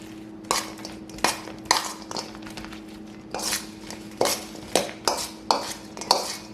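Carrot salad being mixed with honey in a bowl, a series of clinking, scraping strokes of a utensil against the bowl in uneven bursts over a faint hum.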